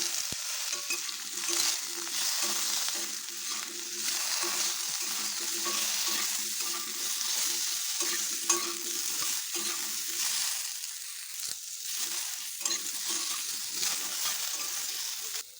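Potatoes frying in hot oil with cumin seeds, bay leaf and a dried red chilli: a continuous crackling sizzle broken by repeated stirring scrapes and soft clinks, close to the pan and with no talking.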